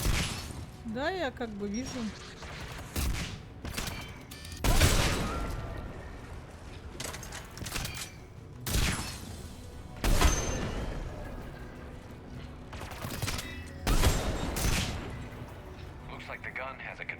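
Gun turret fire in the game Mass Effect 3, repeated heavy booming shots spaced a few seconds apart, with battle noise and voices talking over the action.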